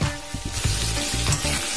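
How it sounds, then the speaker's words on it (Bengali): Potato and papaya pieces frying in a pan for a vegetarian curry, a loud continuous sizzle broken by repeated scraping stirs of a spatula, with no voices. "আলুর সঙ্গে পেঁপেকে আমি 2 মিনিটের মতো ভাজা ভাজা করে নিয়েছি"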